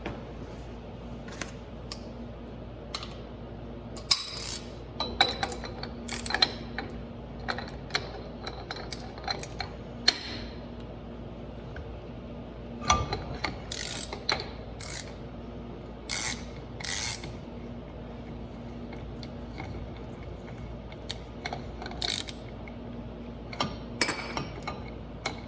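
A ratcheting spindle nut tool clicks in short bursts on a mid-1980s Dana 44 axle with center axle disconnect, sharp metallic ratchet ticks coming in irregular clusters across a quiet workshop.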